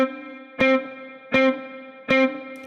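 Distorted electric guitar struck in a steady quarter-note pulse, each sharp chord attack ringing briefly before the next, three clear hits in quick, even succession with no talking.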